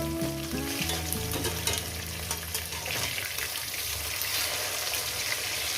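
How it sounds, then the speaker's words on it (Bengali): Rohu fish pieces fry in an oiled pan with a loud, steady crackling sizzle close by, a short stretch of music at the start, and no voices. "এক সাইড পুরো ভাজা হয়ে গেছে আমি অপর সাইডটা উল্টি দেবো"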